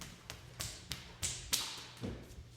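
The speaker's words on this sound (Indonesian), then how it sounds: "Aku mengetuk kamar orang tuaku dengan keras" Several hard knocks on a bedroom door, spaced irregularly with sharp attacks and a low thud in each, close and loud, with no voices.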